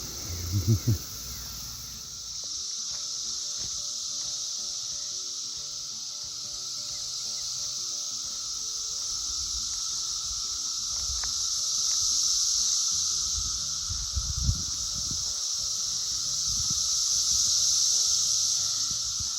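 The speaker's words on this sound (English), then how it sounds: "The noise you hear is the noise of the cicadas" A constant, loud, high-pitched droning buzz of cicadas fills the air and swells slightly in places, with a few faint rustles underneath.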